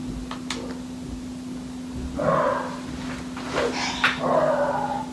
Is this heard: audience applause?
no